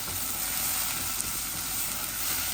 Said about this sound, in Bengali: পেঁয়াজগুলা ভাজা ভাজা হয়ে যাক